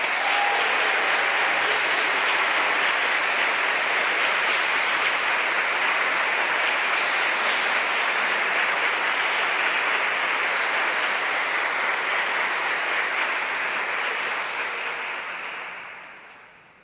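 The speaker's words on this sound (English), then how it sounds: "A final round of applause for these incredible women" An annual meeting audience applauding women honorees with long, loud, dense clapping that holds steady and then fades out at the very end.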